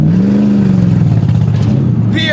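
A $3,500 budget car at Drag Week roars under load, its engine note sweeping steadily upward and then easing, loud and close, with a voice speaking over it.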